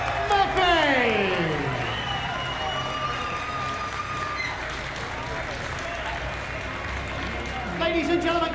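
Boxing arena crowd applauding a Colombian boxer after a bout, a steady wash of clapping and cheering from a large audience, with a ring announcer talking over the start and end.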